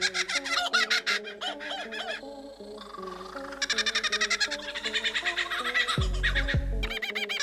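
A lyrebird pours out a rapid string of mimicked bird calls, varied trills, chirps and cackling phrases in quick succession, loud and close, with a brief deep thumping burst near the end.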